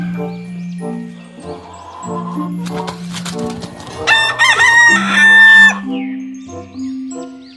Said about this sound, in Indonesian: Wow, ini ayam teman-teman.